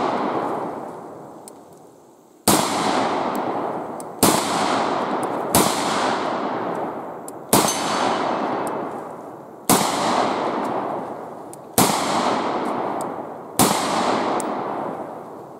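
Desert Eagle .41 Magnum pistol fired eight times at irregular intervals, each shot a sharp, very loud crack with a long ringing decay that overlaps the next.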